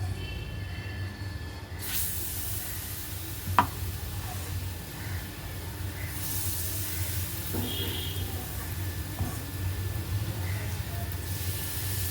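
Flatbread batter spreading on an oiled griddle, a steady soft sizzling hiss running throughout with one brief sharp click, moderately close and without talk.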